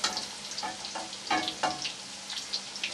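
Cauliflower frying in spiced oil in a pan, a close, steady crackling sizzle with scattered louder pops and stirring scrapes, no voices over it.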